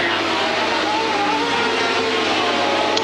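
A racing sidecar with a 1200cc Suzuki engine, its flames pumping from the exhaust, roars in a steady, loud, unbroken drone during a British World Cup sidecar race, with no pauses throughout.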